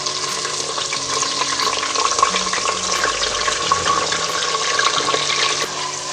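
Chopped onions sizzle in hot oil in a pot, a steady, loud, dense hiss and crackle that holds without pause throughout.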